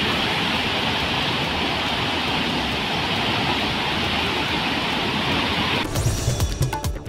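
Floodwater rushes over a waterfall near Mahadev Kho in Rohtas, Bihar, after heavy rain, making a loud, steady roar that fills the whole stretch, with the sound shifting and breaking up near the end.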